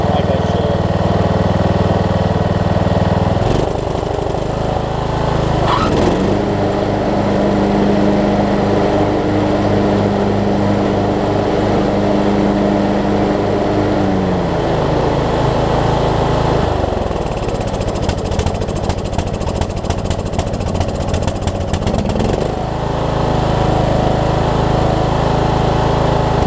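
A Troy-Bilt Pony riding mower engine runs steadily and loudly throughout, its pitch and load shifting as the blades engage and disengage, with a rougher stretch near the end.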